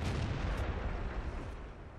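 Tank cannon fire on a steppe map in World of Tanks, a heavy low boom with a rumbling tail that fades slowly across two seconds, loud and alone.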